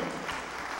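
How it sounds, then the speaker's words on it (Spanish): A church congregation claps together in praise, a brief, dense burst of applause that fills the room evenly from start to finish with no voices over it. "Denle un aplauso al Señor"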